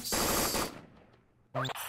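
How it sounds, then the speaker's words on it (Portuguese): Gunfire from the stick-figure escape game Henry Stickmin: Fleeing the Complex, a loud, dense burst of rapid shots lasting over half a second, then a quiet tail and a second sharp crack near the end, with no voices. "a gente tomou um tiro"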